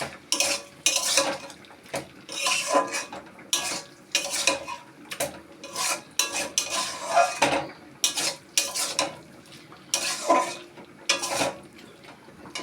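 Cauliflower stalk curry with coriander leaves is stirred in a pan with a metal utensil, giving repeated close scraping and clinking strokes in a quick, uneven rhythm over a faint sizzle.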